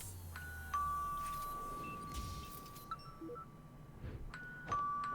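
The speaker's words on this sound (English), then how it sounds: "someone's ringing his doorbell?" A two-tone ding-dong doorbell chime rings twice in the video game Imposter Factor, sounding clear and fairly close, with the second ring arriving a few seconds after the first amid faint background noise.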